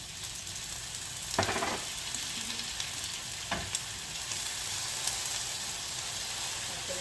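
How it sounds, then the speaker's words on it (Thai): Food stir-fries in a pan with plenty of water, giving a steady hiss and sizzle throughout. Occasional scrapes and taps of a utensil against the pan break through, with no talking. "ผัดใส่น้ำเยอะๆ"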